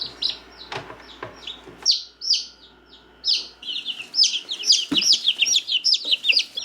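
Baby chicks peep in rapid, high, repeated chirps close by, taken out of an incubator on a farm, with a few scattered thumps and no talking.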